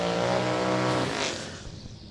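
A Pontiac G8 and a Dodge Dakota Sport RT drag race at Sick Week, engines roaring loudly at full throttle with a rising pitch, then the roar fades quickly as the vehicles pull away into the distance.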